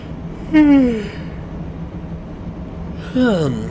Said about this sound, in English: Just had a little squirrel yawn there